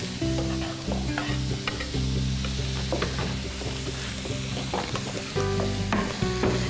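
Vegetables stir-fried in a pan on a television cooking show, a loud continuous close sizzle with repeated scraping and clattering of a utensil stirring, with no speech.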